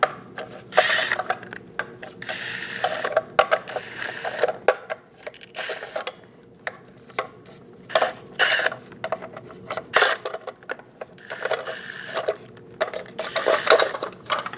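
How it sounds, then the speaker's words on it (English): A ratchet fitted with a 21mm socket clicks in quick bursts while removing lug caps on a 2001-2006 Chevrolet Silverado 2500 HD rear wheel, with rapid pawl ticking, short pauses and metallic handling close up. "Using a 21mm socket, remove all of the lug caps for the center cap."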